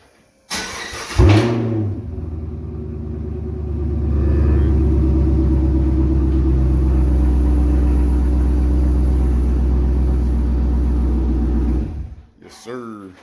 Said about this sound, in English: Let's get a cold start for you guys.